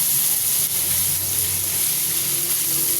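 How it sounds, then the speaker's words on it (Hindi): Garlic-ginger paste hitting softened onions in a hot pan gives a steady, close, broadband sizzle with faint stirring scrapes, continuous for the whole stretch with no one talking. "प्याज नरम हो चुका है। अब डाल देते हैं लहसुन अदरक का पेस्ट।"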